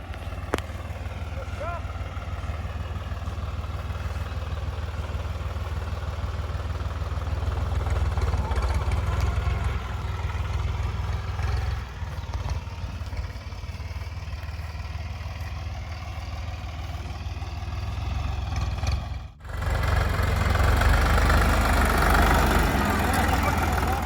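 A Chinese DW Kentavr tractor engine idles in a steady low rumble throughout, with someone talking over it and a brief dip near the end before the rumble returns louder.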